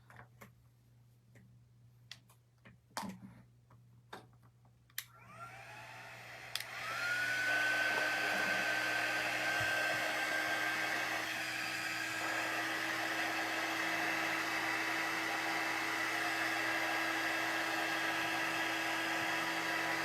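Hair dryer blowing on an Easter craft project: after a few scattered clicks and taps, the dryer switches on and holds a steady, loud whirring roar with a high whine for the rest of the stretch, close to the microphone.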